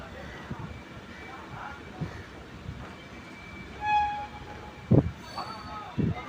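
Vivek Express train pulling out of Kanyakumari station, a low rumbling rail hum with a few sharp clanks and horn-like bursts near the end, heard from on board with faint voices in the background.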